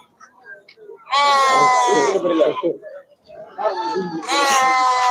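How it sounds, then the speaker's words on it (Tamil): Loud, close sheep bleats at the Melapalayam goat and sheep market: two long, wavering calls separated by a brief lull, with faint background noise between them. "எல்லாம் செம்மறி தான் எல்லாம் செம்மறி செம்மறி செம்மறி செம்மறி"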